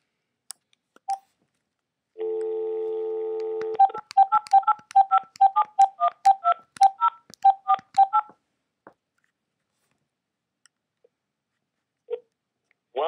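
Telephone keypad tones dialing a Windows XP activation line in the United States: a long steady tone, then a rapid run of about twenty short beeps in quick succession, clear and alone, followed by quiet with a few faint clicks.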